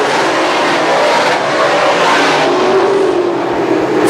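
Modified race cars roar steadily around the Can-Am Speedway oval, a loud continuous engine drone from the pack with rising and shifting revs and no pause throughout.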